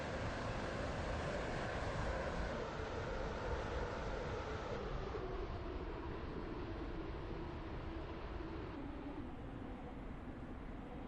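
A train in the Roblox game Stepford County Railway rolls steadily along the Waterline route, a continuous rumbling hum with no distinct clatter that fades slightly toward the end.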